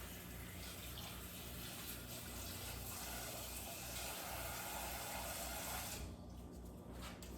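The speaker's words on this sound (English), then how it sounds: "I'm going to put some water in there." Tap water runs steadily into a container holding cut sweet potatoes as they are covered for storage, a continuous moderate-level flow from start to finish that stops near the end.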